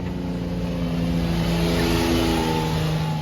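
A four-wheel drive vehicle rumbles by near the Devil's Bridge trailhead in Sedona, its engine droning loud and steady at close range without pause.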